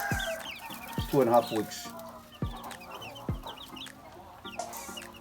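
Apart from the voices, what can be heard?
young chickens in a brooder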